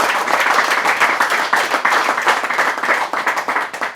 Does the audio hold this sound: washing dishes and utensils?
no